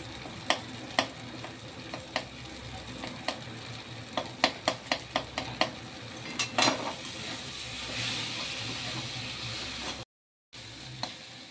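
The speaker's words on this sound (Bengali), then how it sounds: "এবার আমি পোস্তটা দিয়ে দিচ্ছি। এবার দিয়ে আমি নেড়ে নেব।" Poppy seed paste being stirred into leafy greens frying in a pan for Bengali shak bhaja, with a run of sharp spatula scrapes and clicks over a steady sizzle that turns into an even hiss near the end.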